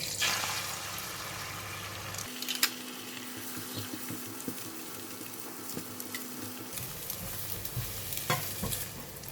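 An egg fries in a pan after prawns for Pattaya fried rice, with close sizzling and scraping stirs, a sharp pan knock early on and a steadier, lower sizzle through the middle.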